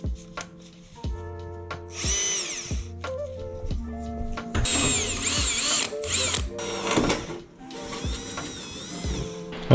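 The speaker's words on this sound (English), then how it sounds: "I'm gonna drill some holes here" A power drill whirs in repeated short bursts, spinning up and boring holes through plastic aero parts on a 1JZ-swapped Nissan 240SX, with brief pauses between holes, close and loud.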